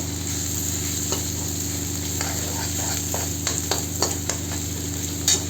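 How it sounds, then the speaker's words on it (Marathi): Crushed garlic and green chili paste sizzle steadily in hot oil in a pan, a constant close frying hiss with a few light stirring clicks and scrapes. "तेलात लसूण आणि हिरवी मिरचीचा ठेचा घालून छान परतून घेऊया 1 मिनिट"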